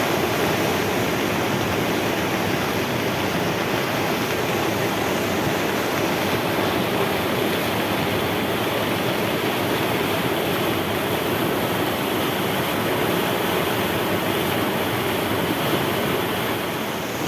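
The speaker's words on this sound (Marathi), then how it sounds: "हे बघा इथं कसे पाण्याचे उफळे उठतात" A flooded river surges past in a dense, unbroken roar of rushing water, loud and close, holding steady throughout without any voices.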